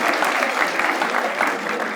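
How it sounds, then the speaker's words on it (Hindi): Audience at a stand-up comedy show claps steadily for about two seconds, a dense, even burst of applause filling the room with no break. "ताली बजाओ दो अच्छे से"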